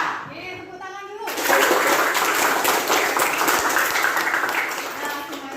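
Classroom students clap together in a burst of dense, bright applause that starts suddenly after a teacher's voice and carries on steadily, nearby and loud, with children's voices mixed in.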